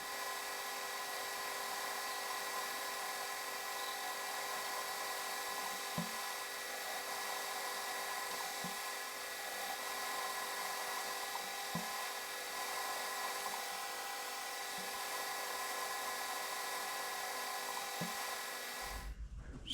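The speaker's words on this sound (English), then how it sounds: "Now I'll go in with a long series drill" A steady high whine of a long series drill running on a machine with through-coolant continues throughout at moderate distance, with occasional faint knocks under the constant tone.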